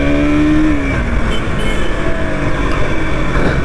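A 2023 KTM RC 200 BS6 motorcycle accelerating hard at full throttle while being ridden through corners, a loud, steady engine roar with rising pitch and heavy wind noise throughout.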